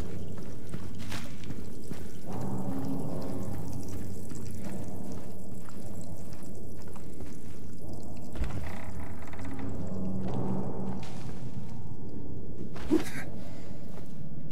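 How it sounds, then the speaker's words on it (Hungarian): Water sloshing and splashing in the Silent Hill 2 Remake game, a continuous pouring, bubbling wash running steadily under scattered footstep-like squishes and a few sharper knocks. "Most, hogy a víz csobog."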